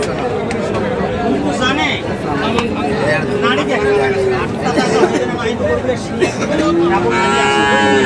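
Bulls mooing at a busy livestock market where farm-ready bulls are sold, several drawn-out low calls rising over constant crowd chatter and nearby talk.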